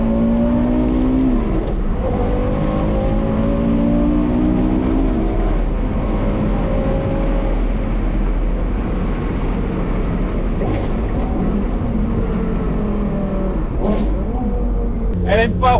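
A Porsche Carrera GT engine revs while driving, with a strong, rising and falling engine note over road rumble heard from the cabin, and a few sharp clicks near the end.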